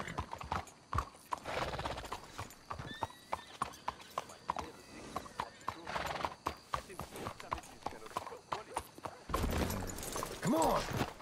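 Horses in the Red Dead Redemption 2 video game clop steadily along, hooves close and rhythmic, with a neigh near the end, while characters talk over them.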